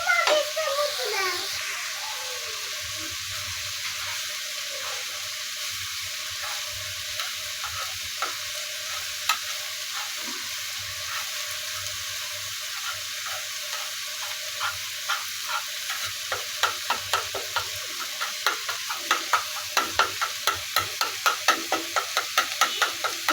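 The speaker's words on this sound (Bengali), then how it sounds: "ডিমটা আমি আস্তে আস্তে নেড়ে দিব, একবারে নেড়ে ফেলবো না" Eggs sizzle and hiss steadily in a hot pan while a spatula stirs them, and in the second half its scrapes come as quick rhythmic clicks. A voice is faintly heard in the background.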